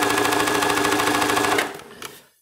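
An insufficiently oiled sewing machine, degreased with WD-40, runs steadily with a fast, even mechanical chatter for about a second and a half, then slows and stops.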